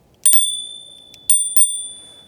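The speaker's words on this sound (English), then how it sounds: "A little bell to alert others you're coming." A handlebar bell on a Caroma E22 Pro electric scooter rings several bright metallic dings: a quick double strike, then two more single rings, each leaving a short clear tone, close and loud with no talk.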